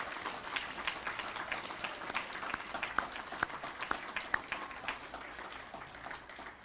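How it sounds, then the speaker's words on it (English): A room full of guests at a reunion gala applauds survivors with a steady, dense patter of clapping. Individual claps pop out now and then, and the applause goes on for several seconds without fading. "Let's show them our appreciation with a hearty round of applause,"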